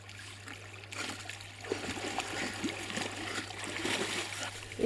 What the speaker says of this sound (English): By this time another dog was playing in the water.